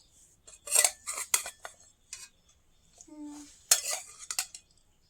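A spoon clatters and scrapes against a plate as fried potatoes and onions are served beside rotis in a home kitchen, in bursts of bright clinks with short pauses between them.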